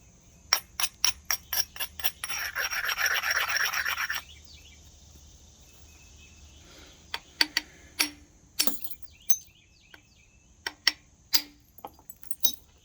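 Sharp stone strikes as chert is knapped and an edge is bevelled, a quick run of close clicks, then a few seconds of scraping rasp while the edge is abraded, followed by more spaced, crisp taps.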